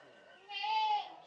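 A bearded goat on an Amish farm gives one drawn-out, wavering bleat, fairly close and clear, rising out of quiet farmyard ambience.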